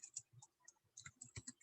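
Quick, faint clicks of typing on a computer keyboard in a classroom, a short uneven run of keystrokes with no voices.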